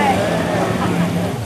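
A boat engine on the Gold Coast in southeast Queensland gives a loud, continuous drone with wind and water noise, under talking.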